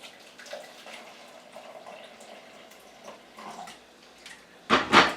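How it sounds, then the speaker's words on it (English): Freshly boiled water from a kettle is poured in a short, splashy gush near the end, after a few seconds of quiet, faint kitchen noise. "Now then, I've got to add half a pint of boiling water."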